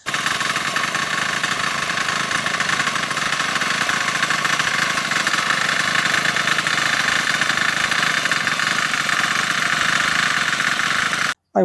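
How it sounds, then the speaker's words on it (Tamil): A power weeder's small engine runs steadily and loudly close by for the whole stretch, a dense unbroken drone with a rough knocking edge, cutting off abruptly at the very end. "ஃபார்மர் டெக்கில் அந்த பவர் வீடர் வாங்கினேன்"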